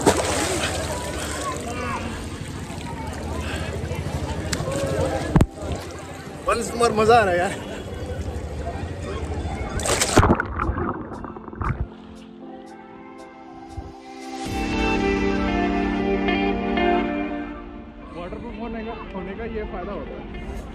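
A waterproof phone dunked repeatedly into the cold Ganga at Haridwar, with sloshing and splashing water, a muffled underwater stretch, then water washing around it again, while people talk over the sounds.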